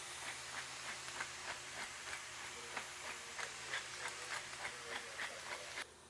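Ground beef sautéing in a pan, a soft continuous sizzling hiss with faint rhythmic ticks throughout, fairly quiet with no talk.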